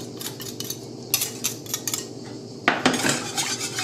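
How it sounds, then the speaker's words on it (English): A metal whisk scrapes and clinks rapidly against a pan while stirring moussaka sauce, with a busy rhythmic clatter that grows louder and harsher toward the end. "You can switch to the whisk now"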